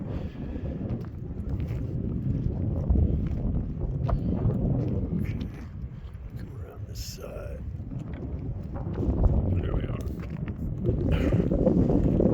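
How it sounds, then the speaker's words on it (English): Wind gusts rumble and buffet steadily in the low range at an outdoor mine site while a person speaks a few words over it. "you can hear the wind kicking up"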